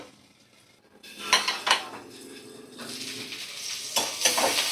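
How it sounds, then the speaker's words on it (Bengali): Onion fries in a covered pan: a quiet start gives way to clanks of a lid and spatula against the metal, then a rising, steady sizzle with scraping stirs. "কিছুক্ষণ ঢাকা দিয়ে একটু ভাজা ভাজা করে নেব আমি"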